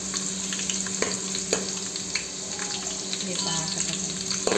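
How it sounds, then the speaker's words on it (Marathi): Green chillies fry in hot oil for poha chivda, giving a steady close-up sizzle dotted with small crackles and pops; a voice speaks briefly over it. "त्यासाठी अगोदर मिरची टाकली, जास्तच फ्राय करून घ्यायचं व्यवस्थित ह्याला।"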